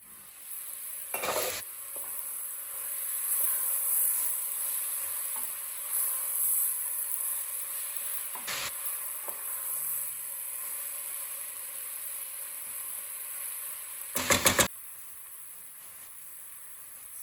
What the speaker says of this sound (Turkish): Cipsleri de 1-2 dakika kavuralım.